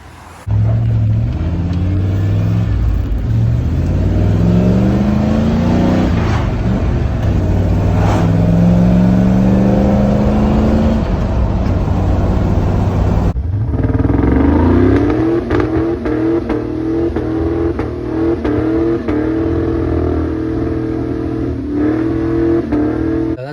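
A car engine revs loudly through its exhaust, rising and falling in pitch, then settles into a steady throaty idle with a few short blips.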